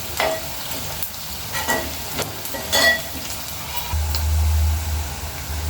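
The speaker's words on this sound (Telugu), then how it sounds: "ఉల్లిపాయలు బిర్యానీకి లాగా ఫ్రై చేసుకోవాలండి" Onions fry in a pan for a chicken fry dish, giving a steady loud sizzle with occasional stirring scrapes and a few sharp crackles. No talking is heard.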